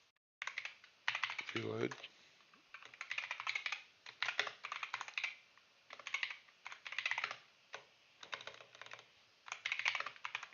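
Clattery computer keyboard typing in quick bursts with brief pauses, close and clear, with a short spoken phrase near the start.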